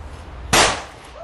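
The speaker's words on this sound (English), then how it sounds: "That's a side impact airbag. It's fairly loud, an explosion." A car's side impact airbag fires with a single sharp explosive bang, loud and close, followed by a brief fading hiss.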